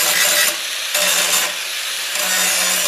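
A 4.5 inch angle grinder with a 24 grit disc grinds down MIG welds on a Chevy Astro radiator core support, a loud, continuous harsh rasp that surges and eases in short passes.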